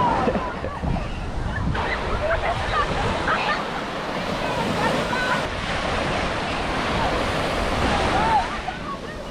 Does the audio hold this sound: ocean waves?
yes